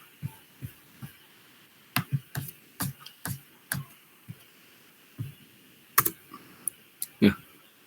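Typing code on a computer keyboard in VS Code: about twenty irregular, close keystrokes, some single and some in quick pairs, with a brief cluster of louder clacks near the end and no talking.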